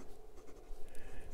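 Majohn Moonman S7 eyedropper fountain pen with an extra fine nib scratching across paper, a short continuous faint scritching close to the microphone.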